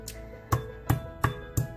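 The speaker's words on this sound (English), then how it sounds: "Crush the ginger, garlic in mortar and pestle." Ginger and garlic pounded in a mortar and pestle, five evenly spaced close thuds roughly a third of a second apart, alone.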